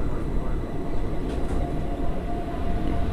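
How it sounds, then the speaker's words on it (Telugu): A Janshatabdi Express train passes close by, producing a loud, steady rolling rumble of wheels and carriages that continues unbroken throughout. "ఇది జనశతాబ్ది ఎక్స్ప్రెస్."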